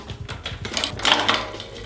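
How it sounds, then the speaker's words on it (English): Bicycle cranks turning on a stand with the chain in the smallest rear cog, running through the rear derailleur: a close, soft rhythmic mechanical ticking and whirring with a brighter chain rattle swelling midway. "You're going to go ahead and pedal the cranks"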